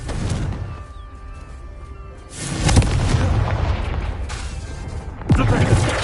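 In the video game Hogwarts Legacy on PS5, a Confringo spell sets off deep booming explosions, two heavy bursts rolling out over a rumbling backdrop, loud and close.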